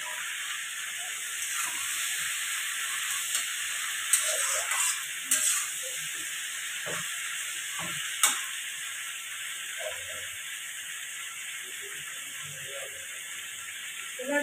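Green peas dropped into a hot kadai while cooking pabda fish latpati, giving a steady hissing sizzle throughout with scattered clinks and small knocks of utensils, close by and unbroken by talk.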